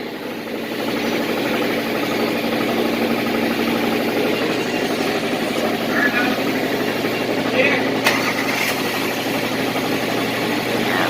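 A 2018 Honda Odyssey idles steadily after an oil change at a quick-lube shop, a low, constant engine hum filling the whole stretch under faint shop background noise.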